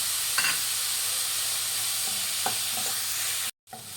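Onions and green chillies frying in a pan give a steady, moderately loud sizzle with a few stirring scrapes and clicks, no talking, ending in a brief cut of silence.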